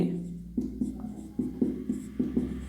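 Chalk or marker writing on a classroom board during a maths lesson, heard as a close series of short scratchy strokes in an uneven rhythm with no talk.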